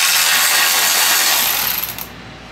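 Loud continuous whirring of a power tool backing screws out of a Turbo S seat base, a steady high-pitched drone that winds down and stops near the end.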